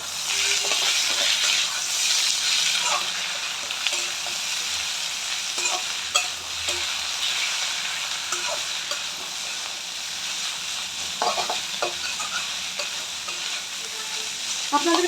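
Chow mein with chilli, tomato and soy sauces and a splash of vinegar sizzles in a pan while being stirred, a close continuous fry with scraping strokes scattered throughout.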